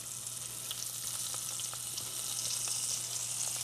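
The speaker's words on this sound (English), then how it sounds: "Listen to that shrimp sizzle." Steady crackling sizzle of shrimp frying in a pan over low heat, with scattered sharp pops over a constant hiss and a low hum underneath.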